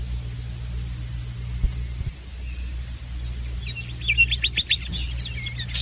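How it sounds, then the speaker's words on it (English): A nightingale's song, used as a theatre sound effect in a staged fairy tale, comes as a faint run of quick chirps and trills over a steady low hum and hiss. "there was a burst of lovely song. It was the living nightingale, perched on a branch outside."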